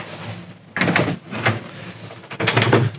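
Sliding lock on the starboard driver's-side cabin door of an Axopar 28 boat being worked open, with several short clunks and rattles close by, a louder burst near the start and another at the end.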